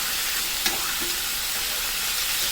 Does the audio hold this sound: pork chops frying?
yes